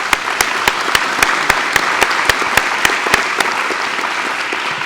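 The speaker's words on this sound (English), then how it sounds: "Can we have a round of applause for them?" Audience applause for newly welcomed board members at a community foundation's fall grant ceremony, a steady wash of clapping with a few sharp individual claps standing out, sustained throughout without talk.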